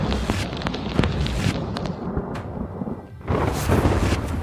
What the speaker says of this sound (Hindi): मुंबई में बादल फाड़ बारिश।